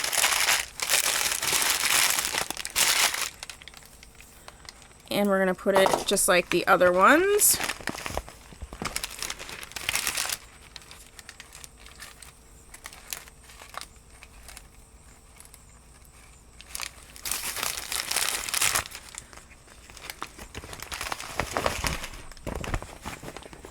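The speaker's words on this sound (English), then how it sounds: "So we're gonna go ahead and put the paper in." Old paper crinkles and crumples in bursts as it is stuffed into wig storage, loud and close, with someone talking between the handling noises.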